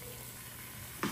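Fish fried in melted butter in a pan: a steady close sizzle fills the brief moment, with a short louder crackle near the end and no talk.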